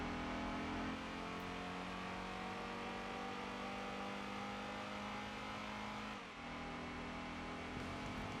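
A Fiat in Gran Turismo 2 during a B-Class licence test, its engine droning at steady, fairly high revs with a brief dip and shift near the end, quiet and with no talk.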